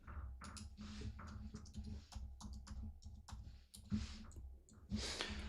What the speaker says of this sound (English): I'm just trying to type this out.